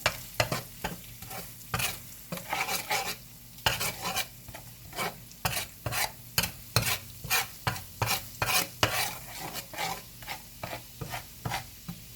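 Curry powder and ginger fry in a pan as a utensil scrapes and stirs in regular rhythmic strokes over a faint sizzle, close and clear with no talking.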